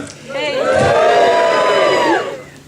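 A large audience at a Tokyo conference session bursts into loud, sustained cheering and whooping that swells for about two seconds and then fades.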